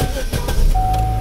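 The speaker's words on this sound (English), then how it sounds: "Now we're going to turn it off and we're going to start the car." A car engine starts after being switched off, a short burst of cranking that settles into a steady running tone that sits close and fairly loud.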